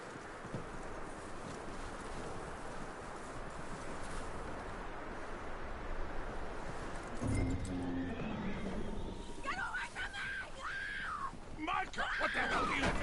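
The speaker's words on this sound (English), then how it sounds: "Get that horse hitched." Horse hooves clip-clop steadily over a continuous noisy background in the video game Red Dead Redemption 2, followed by a horse neighing and whinnying, with some voices mixed in later.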